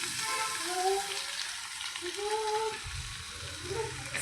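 Onions sizzle steadily in a hot pan while being sautéed for tomato rice, a constant frying hiss with occasional stirring scrapes, close and fairly loud with no talk.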